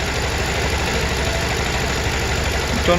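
A motorcycle or scooter engine idles steadily and loudly up close, with an even low throbbing pulse and a faint knocking rattle throughout, alone without talk.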